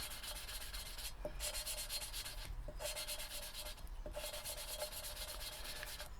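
Steady gritty rubbing and grinding of engine valves being lapped on a Ford Transit engine, close up, repeated back-and-forth scraping strokes with brief pauses, no talking.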